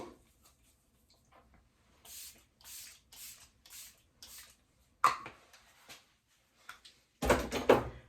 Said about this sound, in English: Now I've got a basic, generic Sephora setting spray.